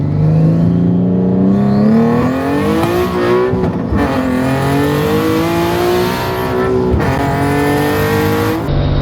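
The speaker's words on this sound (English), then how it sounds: "First gear pull." A turbocharged Nissan 350Z pulls hard in first gear on a morning drive, its engine note rising loud and close under steady acceleration, with brief dips as the revs shift and climb again.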